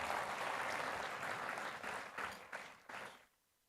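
An audience at the AIIMS Jodhpur 13th Foundation Day ceremony gives a big round of applause, sustained clapping that thins into a few last claps and fades out to near silence.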